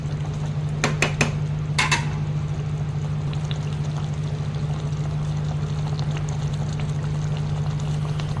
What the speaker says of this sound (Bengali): এটাতে আর একটু জল দিয়ে দেব।